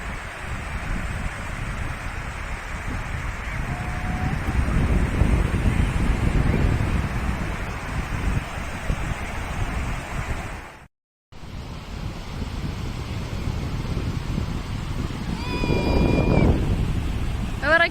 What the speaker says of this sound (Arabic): هذا البحر ديال الرباط